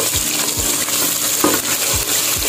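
Whole spices, cinnamon, cloves, cardamom and cumin, sizzle in hot oil in a pan, a close steady frying hiss broken by a few soft, regular scraping stirs, with no talk.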